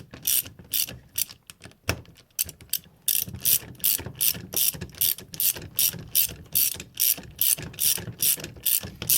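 A ratchet wrench tightens the bolts on a hoist's positive latching hook, making a steady run of rapid, close, rhythmic clicking strokes after a few scattered clicks at the start, with no voices.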